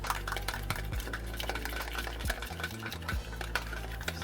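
Food being stirred in a pot during meal prep, a steady stream of scraping and clattering utensil sounds with irregular knocks, fairly close and continuous over a low background hum.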